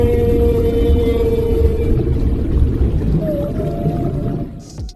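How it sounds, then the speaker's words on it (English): A whale call rises out of a loud, rumbling underwater wash, a long moaning tone that slides and shifts pitch over several seconds before the sound cuts off. "Do you really think the whale is saying hello?"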